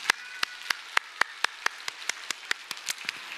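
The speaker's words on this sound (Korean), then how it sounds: "우리 박수 한번 쳐주세요." Scattered, slow hand claps from a small church congregation at a Sunday service, a dozen or so distinct claps spaced unevenly over a few seconds, fairly quiet and without talk.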